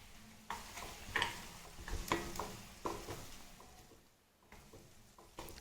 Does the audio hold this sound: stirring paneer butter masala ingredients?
yes